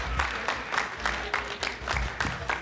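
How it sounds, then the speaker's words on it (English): Audience applause at an annual community banquet for a service team, with distinct clustered claps in a loose rhythm, moderately faint and somewhat distant. "Let's give a big round of applause to Sewa team."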